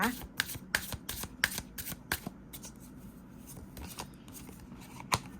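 Oracle cards are shuffled by hand in a quiet room, with a quick run of crisp riffling snaps followed by slower, scattered flicks and taps, close and fairly soft.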